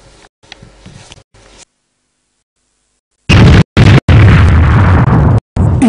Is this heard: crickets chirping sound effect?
no